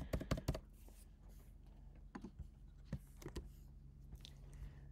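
Keys on a computer keyboard clack in a quick burst of several presses, followed by scattered single taps, close and fairly quiet with a soft background hum and no talking.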